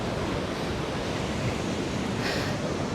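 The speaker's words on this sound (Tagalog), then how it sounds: "Parang ang lakas ng alon" Strong ocean waves surge and crash in a continuous roar of surf mixed with wind buffeting the microphone, loud and close with no voices.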